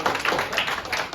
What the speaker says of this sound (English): can we get a round of applause for the DJ?